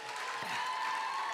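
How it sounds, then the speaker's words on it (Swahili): An outdoor crowd at a girls' school fundraiser in Isiolo gives the education minister a round of applause, steady dense clapping that carries through the whole short clip with no talk. "Hiyo bana makofi ya kukaribisha wageni jameni"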